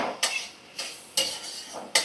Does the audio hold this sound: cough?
no